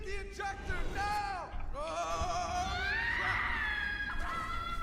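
A voice in the video game Borderlands 2 lets out drawn-out, shifting screams and wails, fairly loud over a rumbling low background, one long cry sliding upward in the middle.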